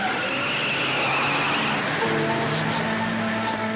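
A film car chase: a car engine roars continuously and loud, tires squealing and skidding, with a steady harsh wash of sound and rising tonal whines partway through.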